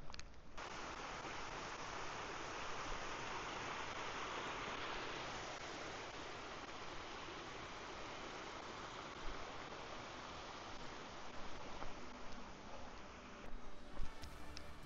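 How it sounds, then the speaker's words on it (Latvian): A small mountain stream in Tbilisi rushes steadily nearby, a broad, continuous wash of flowing water with no pauses, fairly quiet overall, with faint footsteps or handling noises near the end. "Un te jau strautiņš uzbrucis staciņai."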